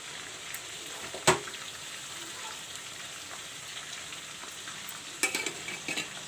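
Fried onions go into a chicken curry in a pan and get stirred, giving a steady soft sizzle with a sharp clink early on and scraping clatter near the end.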